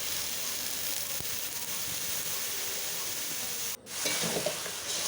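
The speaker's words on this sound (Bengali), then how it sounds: "এগুলো ভেজে নেব" Carrot, pumpkin, potato and capsicum fry in an oiled kadai, giving a soft, even sizzle with a brief break before it swells again slightly louder. Nobody speaks.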